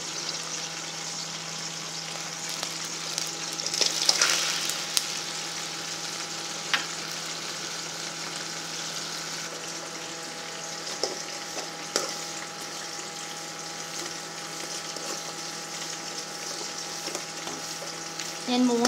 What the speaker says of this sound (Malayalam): കായ വറുത്തത് ഇത് മറിച്ചിടാൻ പാകമായിട്ടുണ്ട്